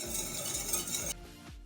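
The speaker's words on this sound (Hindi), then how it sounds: "साथ आपने चम्मच चलाते जाने क्योंकि इसमें गुठलियाँ जल्दी बन जाती हैं" Spoon stirring thickening apricot custard in a pan, giving close scraping sweeps with faint metallic clinks in a steady rhythm before the sound drops away.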